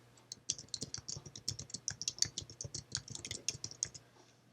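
Text is entered on a computer keyboard in a rapid, uneven run of crisp key clicks, heard close and fairly quiet for several seconds, then slowing to a stop.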